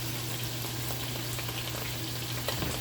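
Stew meat fries in melted butter in a pan, with a steady close sizzling crackle and scattered pops running throughout, no voices.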